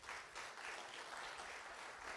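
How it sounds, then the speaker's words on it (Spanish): Audience applause for a panelist at an economics panel session on Mexico, a steady, even patter of clapping at a moderate, slightly distant level with no voices over it. "Por favor, un fuerte aplauso para Monse."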